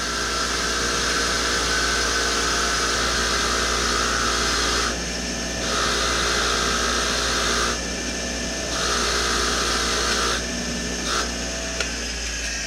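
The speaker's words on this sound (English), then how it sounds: "Turn this wire wheel on." A spinning wire wheel cleans caliper bracket bolt threads during front wheel hub replacement on a 2011 Cadillac DTS, a loud continuous whir with brief dips in pitch as the bolt is pressed against it.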